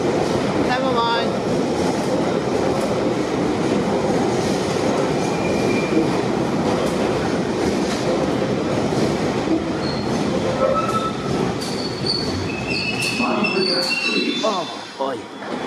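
Inside a moving train carriage, a constant loud rumble of wheels on rails with clickety-clack and occasional squealing, continuous throughout.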